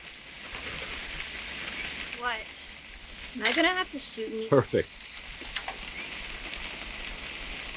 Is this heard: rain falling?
yes